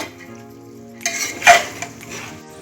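Soaked toor dal stirred in a pot for khichdi, a spoon scraping and clinking against the metal in one short burst of activity, loudest for an instant midway, over a faint steady background.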